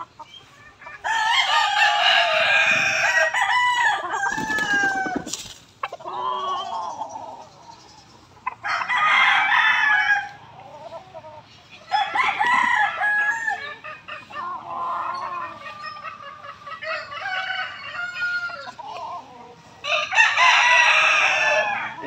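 Stag chickens cluck and crow loudly while being given fresh feed, with several birds calling in overlapping bursts and repeated crows over a steady farmyard background.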